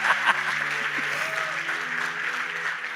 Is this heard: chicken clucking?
no